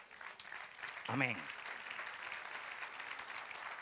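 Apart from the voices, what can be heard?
applause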